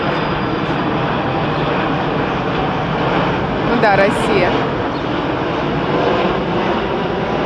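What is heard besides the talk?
airplane flying low overhead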